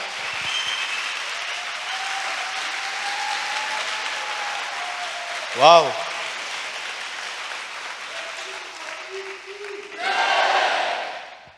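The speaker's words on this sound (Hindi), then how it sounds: "Yes, वो डिजर्व करता है हमारी तालियां" A church congregation applauds in a continuous dense wash, interrupted midway by a brief loud exclamation from a voice and swelling again into stronger clapping near the end.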